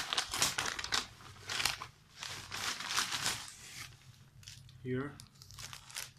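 A Slam Attax 10th Edition starter pack wrapper is torn open, bursts of crinkling plastic and tearing close by, with a brief spoken word near the end.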